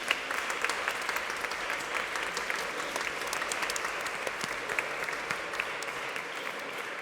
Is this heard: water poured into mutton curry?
no